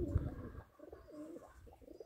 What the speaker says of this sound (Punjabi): ਇਹਨਾਂ ਨੂੰ ਕਬੂਤਰ ਆਪਣੇ ਆਪਣੇ ਜੋੜੇ ਲਾ ਰਹੇ ਹਨ